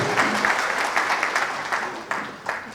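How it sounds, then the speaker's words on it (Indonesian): Applause from an audience at a forestry nursery event, a dense patter of hand claps at moderate distance, fairly steady with a few sharper bursts toward the end. "Tepuk tangan untuk UD Amalapani Kekayaan Bumi"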